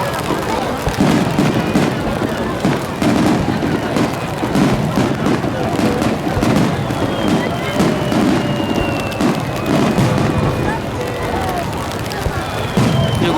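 Fireworks at the Fukuoka Higashi-ku fireworks festival burst in a dense, continuous barrage of booms and crackles, loud and sustained, with crowd voices mixed underneath.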